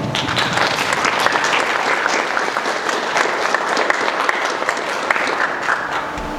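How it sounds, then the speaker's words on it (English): A crowd at a high school National Honor Society induction gives sustained, loud applause for the new members, a dense even roar of many hands clapping. "Give yourselves a round of applause."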